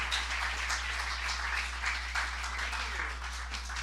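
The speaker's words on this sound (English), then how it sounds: "let's bring him up here with a nice round of applause" An audience at a Western-themed talk event gives a steady round of applause, many hands clapping together at a moderate, even level without a break.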